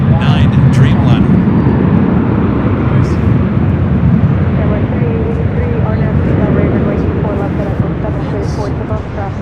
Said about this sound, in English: Next arrival here on the north side is Spirit Airlines Flight 955 coming from New Orleans. It's an A320neo.